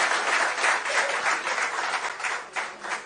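Audience applause for Gopal Shetty at a public gathering: steady, dense clapping from a sizeable crowd that holds for about three seconds with no voices over it.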